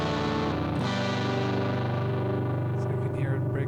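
An overdriven electric guitar amp simulation on a Roland SP-404 MK2, crunchy and slightly breaking up, with sustained chords ringing out steadily and evenly.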